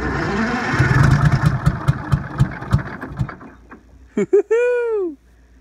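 An old diesel engine dosed with starting fluid cranks and sputters close by, firing in a run of uneven pulses that fade out, followed by a few sharp knocks and a rising-and-falling squeal.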